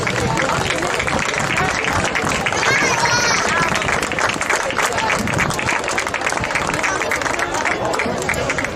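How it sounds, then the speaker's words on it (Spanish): A crowd at a handball trophy ceremony applauds loudly and without a break, the dense clapping mixed with crowd murmur while a presenter's voice carries over the top. "Un aplauso para ellas."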